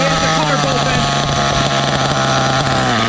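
A nitro engine in an OFNA Mutilator RC car, restored from a rusty wreck, runs close by with a steady buzzing drone and slight pitch wavers while voices talk over it.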